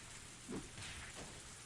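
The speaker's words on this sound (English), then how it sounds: "Only the sound of rain filled this tense moment" Steady rain falls throughout, forming a dense, even hiss with a few soft drops and thuds rising briefly above it. It plays at a quiet level with no voices.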